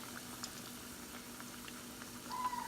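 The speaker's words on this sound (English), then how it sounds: "We're gonna fry this for approximately 5-7 minutes, and we'll make it brown" Oil bubbles and crackles steadily at low volume, a continuous fizzing sizzle of chicken wings deep frying.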